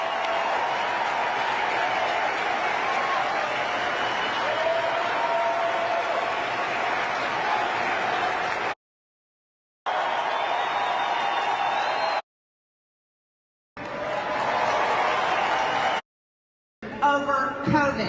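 A large crowd applauds and cheers at a political rally, a loud sustained roar that cuts off abruptly several times into silence and then resumes.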